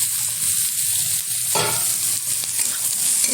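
Chopped onion and potato frying in a pan, a loud close sizzle with a spatula stirring and scraping through it, one sharp scrape standing out partway.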